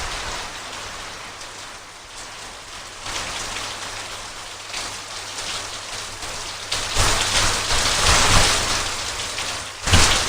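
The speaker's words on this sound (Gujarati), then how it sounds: "એટલે નેવા ચાલુ થઈ ગયા. મસ્ત વરસે છે." Heavy rain pours steadily onto a farmhouse and runs off the eaves, a dense, loud, continuous wash that swells in intensity toward the end, with no voices.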